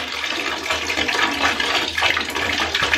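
Apple cider vinegar pours into bath water in a steady, close, continuous splashing stream with no voices.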